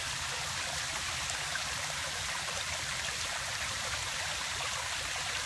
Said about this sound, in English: just listen to the sound of the brook here.